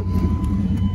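A 1991 Chevy Silverado 1500 farm work truck idles just after starting, a loud, steady low engine rumble close by with a faint high whine, no talk.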